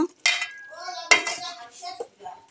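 A metal lid set down over a pot of cooking fish curry makes two sharp clanks, one early and one mid-way, followed by softer rattles in an otherwise quiet kitchen.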